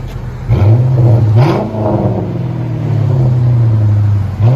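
Chrysler 300C 5.7L HEMI V8 with Carven TR exhaust, rear delete and 4.5-inch tips, revving loud and close: a deep rumble climbing in two sharp blips, then a long sustained high-rev drone that drops off at the end.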